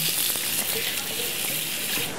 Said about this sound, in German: Und dann wasche ich mir den Lauch und die Karotten.